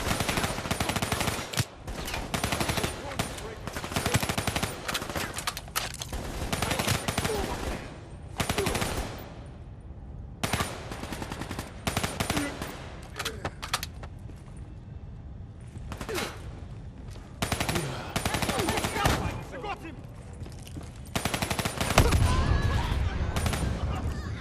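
Heavy automatic gunfire from an enemy machine gunner in Call of Duty Black Ops 3, loud, dense bursts that stop and start across the scene, mixed with explosions and other combat noise.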